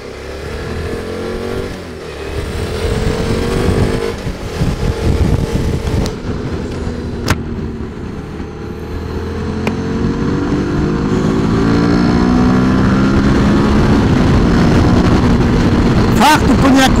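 A QJ Motors SVT 650X motorcycle engine runs close by while riding, its pitch rising and falling with shifts and acceleration before climbing to a louder, sustained drone toward the end.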